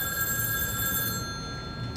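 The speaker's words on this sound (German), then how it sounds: "Und ein Telefon." A telephone rings in The Darkest Files, a sustained electronic bell tone holding steadily at moderate loudness over low room ambience for most of the moment, then cutting off with a brief click.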